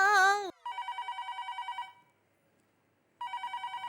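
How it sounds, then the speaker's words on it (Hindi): An old-style telephone rings in two bursts of rapid trilling, separated by a short silence, with a brief voice-like tone at the very start. "फोन आया।"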